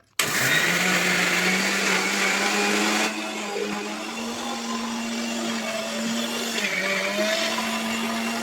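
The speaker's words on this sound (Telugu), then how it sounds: "మిక్సీ పట్టడం అయిపోయింది" A kitchen mixer grinder blends fresh henna leaves with a little water, a loud, close, steady motor whine that runs throughout and drops slightly in pitch and level partway through.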